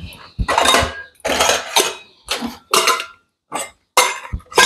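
Metal kitchen dishes, pots and utensils clatter and clink in a home kitchen, coming in about eight separate bursts of banging and scraping with short silent gaps between them, close and fairly loud, with no talk.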